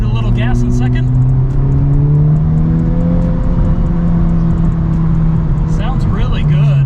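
A 2021 Honda Civic Type R FK8 with a muffler delete accelerates in second gear, a loud, steady exhaust drone rising in pitch, with brief clicks at the start and end.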